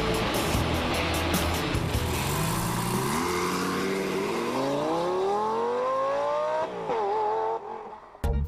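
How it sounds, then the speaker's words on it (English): A Lamborghini Gallardo Spyder's 520-horsepower V10 roars loudly and continuously as it accelerates hard, its pitch climbing steadily through a long pull, then dipping with a gear change before easing off at the end. "V10, 520 horsepower, and a sound that makes car fans go weak at the knees"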